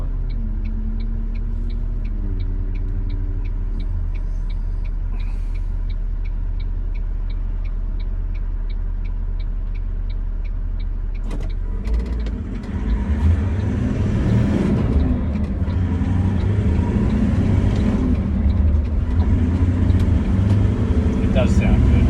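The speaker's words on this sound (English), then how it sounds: "See if you guys can hear that snorkel." A Land Cruiser engine with a snorkel idles with a steady low drone, then revs up into a louder, throaty rumble that carries on to the end.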